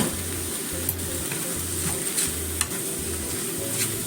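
Cabbage stir-fries in a pan with salt and pepper, a steady sizzle overlaid with a regular scraping of the spatula, close and moderately loud.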